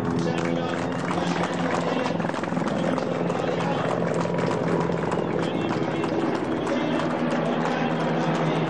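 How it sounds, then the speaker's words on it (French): Military helicopters in an air display at a graduation ceremony, a steady loud rotor thrum throughout with a voice talking over it. "un spectacle aérien assuré par les hélicoptères."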